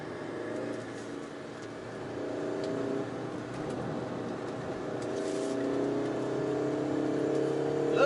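A 2021 Peugeot 3008 with a 1.6 liter turbo engine drones steadily from inside the cabin while driving, its pitch lifting gently under a soft road and wind hum.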